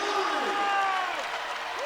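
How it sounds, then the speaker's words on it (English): Basketball arena crowd cheering and applauding after a foul in a VCU vs Niagara game, a broad sustained roar of many voices with whistles rising over it, fairly loud and continuous. "Jordan Tillery getting this crowd involved."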